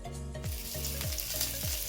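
Lamb chops sizzling steadily in a pan with rosemary and garlic, a close, continuous frying hiss broken by a few soft stirring or shifting sounds, with no voices.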